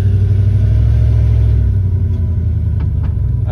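A 1994 Dodge Ram pickup with a 5.2 engine driving on the road, a loud, close, steady low rumble that eases slightly partway through, with faint clicks near the end.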